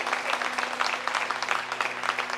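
A crowd claps steadily and densely throughout this short stretch, a continuous wash of many hands at even loudness with no speech over it.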